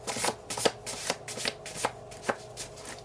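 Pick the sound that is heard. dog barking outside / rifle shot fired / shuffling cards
shuffling cards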